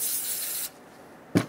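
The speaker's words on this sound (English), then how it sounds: "We're going to use the rag to wipe them down" Cloth rubbed over mechanical parts soaked with brake cleaner makes a steady broadband scrubbing hiss for about half the clip, a near, moderately loud pass that stops and then gives way to a brief sharper scrape at the end.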